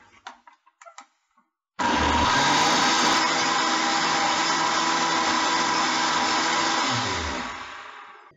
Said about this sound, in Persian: موادمون رو میریزیم داخل بلندر و اون رو بلند میکنیم، کاملا مخلوط میکنیم.